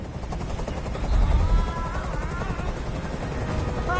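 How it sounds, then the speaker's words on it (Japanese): Rapid rotor thumping of a video-game helicopter on PS4 chops steadily over a dense mechanical rumble, fairly close and continuous. "あのヘリコプターをどこかにやってくれ。"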